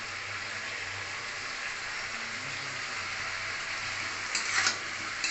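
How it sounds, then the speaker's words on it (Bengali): Vegetable stalks seasoned with salt and turmeric fry in a pan with a steady, close, even sizzle, and a brief clatter of stirring near the end. "এটা দিয়ে আমি এখন ভালো করে একটু এখন ভেজে নেব।"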